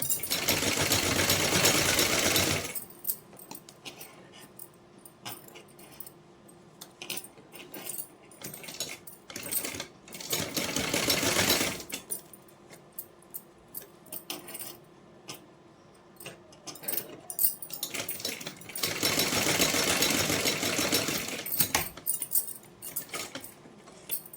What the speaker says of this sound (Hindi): सिलाई हमें सभी जगह ध्यान से लगा लेनी है